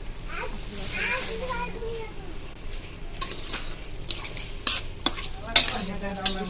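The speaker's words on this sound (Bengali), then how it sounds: "আমি বুটটা সিদ্ধ করে রাখা বুটটা দিয়ে এটার মধ্যে ভালো মতো কষিয়ে নেব শুকনা করে" Boiled chickpeas are stirred and fried in a pan, with soft sizzling and repeated scraping and clinking of a spoon against the metal, close by and moderately quiet.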